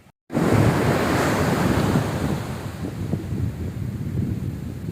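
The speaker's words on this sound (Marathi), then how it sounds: "सो आता जाऊया या साईडला पूर्ण पसरलेला समुद्र आहे" Sea waves wash onto a beach where fishing boats sit nearby, a steady broad roar of surf mixed with gusty wind buffeting the microphone, close and loud throughout, with no voices.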